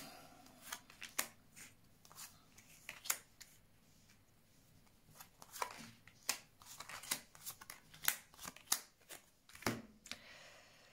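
Tarot cards being shuffled for a reading, a run of crisp riffling snaps and flicks in irregular bursts, close and fairly quiet with no talking.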